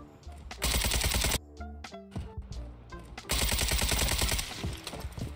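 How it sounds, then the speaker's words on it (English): Gunfire from the video game Warzone: loud bursts of rapid automatic shots, one long volley, then scattered single shots and another sustained burst, close and dominant. "I just start shooting because I hear something close"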